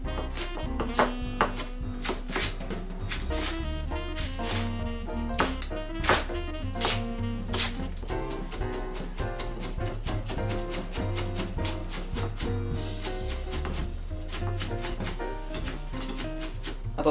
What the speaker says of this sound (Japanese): ここもみじん切り。